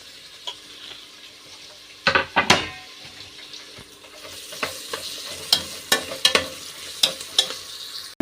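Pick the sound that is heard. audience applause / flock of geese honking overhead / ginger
ginger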